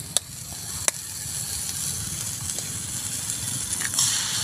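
Egg added to hot sisig in a pan sizzles with a steady, fairly quiet hiss and crackle, broken by a couple of sharp clicks near the start.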